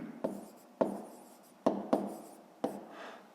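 Pen writing on paper during a fifth-grade maths exercise: five crisp scratchy strokes at uneven intervals, each with a short rasping tail, close and fairly loud in a quiet room.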